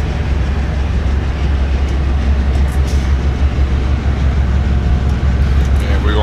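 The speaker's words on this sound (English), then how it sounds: "southbound freight coming through." A freight train rolls past in a train simulator game, a dense continuous rumble and rail clatter with steady low drone, loud and close throughout.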